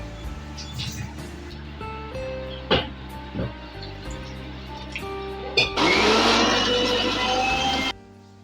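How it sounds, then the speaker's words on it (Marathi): A kitchen mixer grinder runs loudly for about two seconds, grinding jackfruit pulp into a fine paste. Voices and light kitchen clatter come before the whir, which then cuts off abruptly. "आपण आता मिक्सरमधून गरे बारीक करून घेतलेत आणि पूर्ण एकदम बारीक पेस्ट केली आहे"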